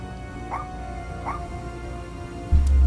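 Puppy in the video game Little Misfortune giving two short whimpering yips over a quiet music bed, followed by a louder low thump at the end.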